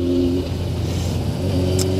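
A 1993 Honda CBR 900 RR FireBlade motorcycle engine runs close by, holding a steady rumbling tone that dips briefly and then rises again.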